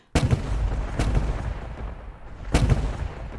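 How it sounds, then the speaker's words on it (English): Heavy booming ship cannon blasts, three in all, the first and last loudest, each leaving a rumbling roar that lingers between shots. "Several more cannons went off"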